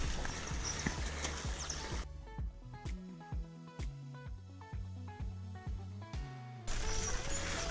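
A mare's hooves clop in an uneven series of sharp knocks over a musical backdrop, steady and close, with a louder busier stretch at start and end.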